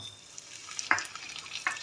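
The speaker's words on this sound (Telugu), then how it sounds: "ఇప్పుడు పోపు దినుసులు వేసుకుందాం" Tempering spices crackle quietly in hot oil, a soft sizzle broken by a couple of sharper pops close by, with no one talking.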